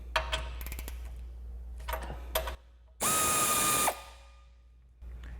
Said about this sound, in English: we're going to grab a 17 millimeter socket and loosen up our lower shock bolt